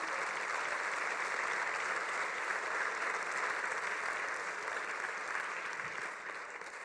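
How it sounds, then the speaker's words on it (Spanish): Sustained applause fills a church conference hall, a dense even clapping from the congregation that holds steady for several seconds and then begins to taper off near the end, with no voices over it. "Y justamente un aplauso para Jesucristo."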